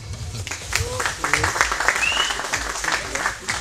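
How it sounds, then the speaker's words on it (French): An audience applauds a kickboxer at a K1 European Championship weigh-in, moderate clapping from a crowd mixed with people talking over it. "Alors d'abord, on peut l'applaudir."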